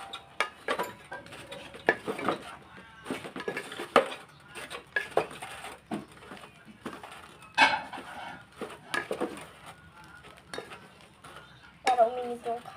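A utensil stirs and scrapes cooked rice in a pan as it warms with salt, with irregular clinks and scrapes against the metal, close by and moderately loud.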